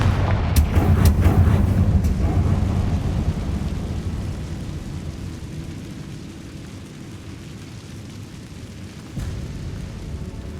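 A Confringo fire spell cast in a Harry Potter game bursts with a loud booming blast, then rumbles and fades away over several seconds before a second, softer thump near the end.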